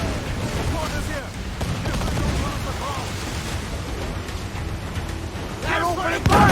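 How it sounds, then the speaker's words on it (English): Ship cannon fire in Assassin's Creed IV Black Flag: deep booming blasts and rumbling impacts in a busy naval battle, repeated irregularly, with shouting voices over the gunfire. "They're opening fire!"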